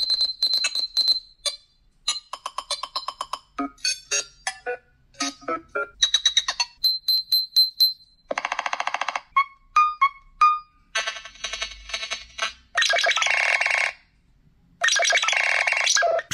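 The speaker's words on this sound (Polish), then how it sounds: "Oto przykłady tych dzwonków." A string of Nothing Phone (1) ringtones plays one after another, alone and fairly loud: chirpy electronic beeps, bell-like tones, clicky rhythmic patterns and buzzy bursts, each short pattern separated by brief gaps.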